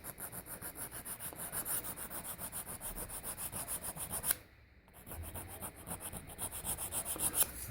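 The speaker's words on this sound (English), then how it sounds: "Take a small shaving off the edge" A brittle washing machine carbon brush from a Bosch motor having its edge shaved with a blade, a close, steady rhythmic rasping scrape that pauses briefly midway, then resumes.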